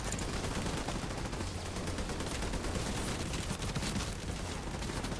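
Sustained rapid gunfire fills the scene in Tom Clancy's The Division 2, a dense unbroken fusillade of overlapping shots at a steady moderate level, with no voices.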